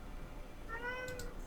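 A house cat gives a single short, faint meow near the end, heard at a distance over low background noise in an indoor room.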